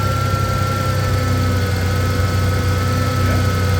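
A 1988 Ford Ranger truck engine idling steadily with a low, even rumble and faint mechanical whine, running constantly with no pauses.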